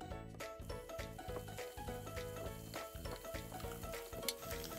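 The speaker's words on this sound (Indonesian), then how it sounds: "Lalu pecahkan 1 butir telur dan kita orak-arik seperti ini" An egg scrambled with fried chilies sizzles steadily in a hot pan, with rhythmic stirring scrapes and soft clinks throughout, and no voice.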